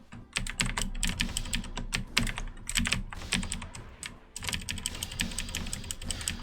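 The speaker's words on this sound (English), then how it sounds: "Gotta have keyboard clicks to play Elsword" Rapid, frantic keyboard clicking from someone playing the video game Elsword, a dense continuous clatter of keystrokes with brief lulls, close and fairly loud with no talking.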